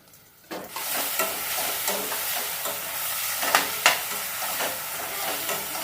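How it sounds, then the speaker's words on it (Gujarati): Chopped onion and garlic sizzle and fry in a hot pan for a Kathiyawadi meal, a steady close crackle with a few sharp clinks and scrapes of a spoon stirring. "લસણ અને ડુંગળીને આપણે ઢાંકીને ચડવા દઈએ 2-3 મિનિટ"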